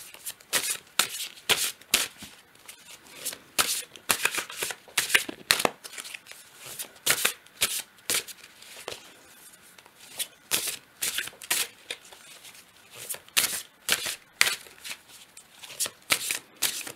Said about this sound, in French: je brasse encore un petit peu les cartes